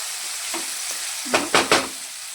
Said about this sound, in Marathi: चला तर याला एकदा मिक्स करून घेऊया